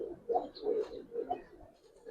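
Giribaz and coloured pigeons coo close by, several soft, low rolling coos in quick succession, quiet and alone.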